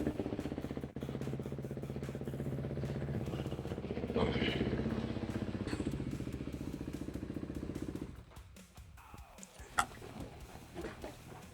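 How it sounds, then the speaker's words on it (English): A Beta 480 dirt bike engine idles and revs with a steady rapid throbbing, close by, before cutting down to quieter clatter and ticking near the end. "I think it's time for a test ride."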